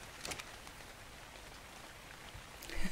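Rain falling in the video game ARK: Ragnarok, a steady soft hiss of drops throughout with a few brief louder patters near the start and end, quiet and continuous with no talking.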